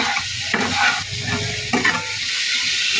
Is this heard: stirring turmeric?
yes